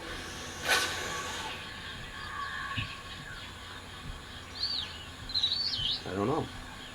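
Bird-like creatures in the video game Spore give a string of chirps and warbling calls of varying loudness over a soft ambient background, with a louder trilling call near the end.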